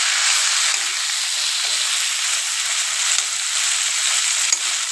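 Taro and dried lota fish fry in a pan for an old village-style Bengali taro-greens dish, giving a steady, even sizzle and hiss that runs close and unbroken throughout, with only faint stirring beneath.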